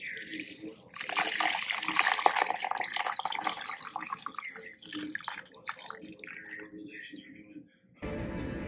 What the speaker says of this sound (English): Now I'll pour the jello in here.